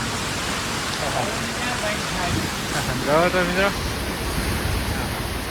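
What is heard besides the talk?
heavy rain during a storm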